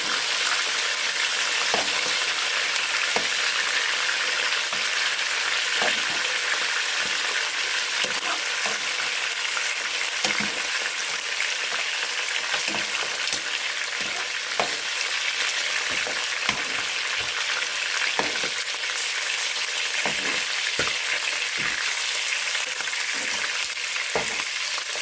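Chicken wings frying in oil give a dense, steady sizzle that runs without a break, with soft scattered pops and crackles, close and constant, with no voices.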